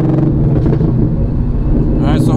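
A supercharged 2016 car with a Whipple supercharger pulls hard in third gear, a loud, close, steady engine roar heard from inside the cabin, with a brief rising whine at the very end.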